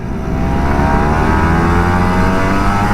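A Kawasaki Ninja RR 150, an older two-stroke sport motorcycle, pulling away on a long road in Jakarta, its engine droning loud and steady up close for the whole stretch with no talk over it.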